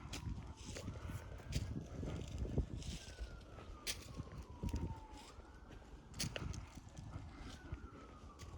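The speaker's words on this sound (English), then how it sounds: "You can still hear the sirens, although they're not too loud. They're kind of faint, but you can still hear the sirens." Emergency sirens wail far off, heard from the Barren Fork Heritage Trail in Kentucky, with slow rising and falling sweeps faint beneath nearby outdoor rustling and footsteps.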